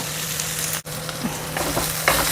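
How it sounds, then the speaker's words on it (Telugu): Soaked chana dal frying in a pan with oil for a curry, a steady close sizzle with a few soft stirring scrapes and one brief break. "శనగపప్పు ఒక 2 మినిట్స్ ఫ్రై అవ్వాలండి."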